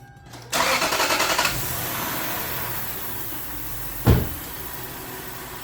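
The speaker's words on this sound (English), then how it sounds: "So let's go ahead and start the engine and cleaning process." A 2001-2006 Lexus LS430 engine being started during an air intake and valve carbon cleaning service: a brief crank catches and settles into a steady, close idle, with a short sharp burst partway through and no talk.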